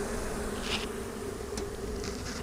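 Honey bees buzzing in an opened hive nearly full of bees, a dense continuous drone close by with a few louder passes of individual bees, no talking.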